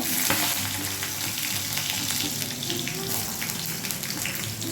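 Jackfruit seeds added to hot oil with cinnamon and three slit green chillies, a strong close sizzle and crackle right after they drop in, continuing as a dense even frying hiss.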